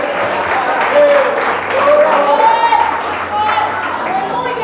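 A church congregation claps and cheers at an evangelical service for a pastor's consecration, crowd noise mixed with voices calling out and a speaker talking over the clapping.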